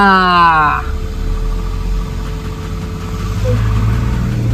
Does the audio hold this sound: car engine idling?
yes